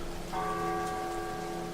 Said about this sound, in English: All around you can hear the sound of the rain battering the windows and everything.